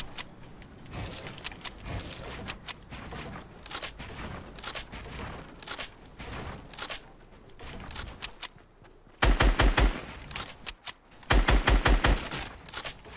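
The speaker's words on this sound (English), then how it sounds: "Did he just shotgun me from that far?" Shotgun blasts and rapid gunfire in Fortnite arena gameplay, dense bursts of shots throughout with two loud, close volleys near the end.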